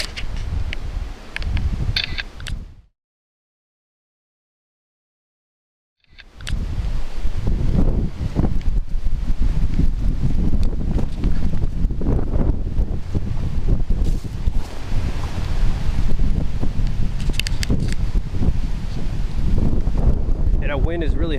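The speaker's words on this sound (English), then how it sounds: "Wind is really helping keep everything nice and cool" Wind gusting outdoors on a hiking trail in Rice Lake State Park near Owatonna, Minnesota, a steady broadband rush buffeting the microphone, broken by a few seconds of silence, with rustling and occasional talk.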